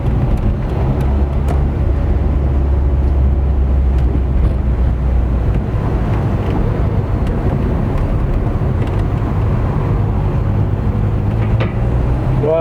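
A Renault 11 GTL on a test drive after thirteen years unused, heard from inside as a loud, steady engine and road drone with wind noise, continuous throughout.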